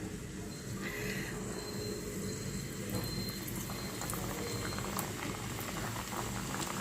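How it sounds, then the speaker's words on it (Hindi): Ghee heats in a pan, ready for frying the pastry for homemade baklava, with a steady low bubbling hiss that holds constant and close throughout, no voices. "हम यहाँ पे घी चढ़ाएंगे फ्राई करने के लिए"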